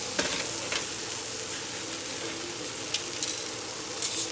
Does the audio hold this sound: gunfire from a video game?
no